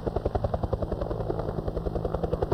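Helicopter rotor blades thump in fast, regular beats over a steady engine whine, a close and loud Vietnam-era chopper in flight with no talk.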